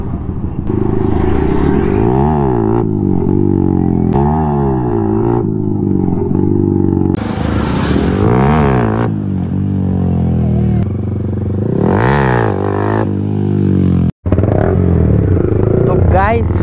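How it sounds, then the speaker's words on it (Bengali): Yamaha R15 V3 motorcycle performing wheelies, its engine revving up and down in repeated surges, loud and close, with people talking over it. "আর আমাদের নাজির হুইলি ওটা মারছে দেখো গাইস"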